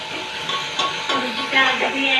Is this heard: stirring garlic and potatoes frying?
yes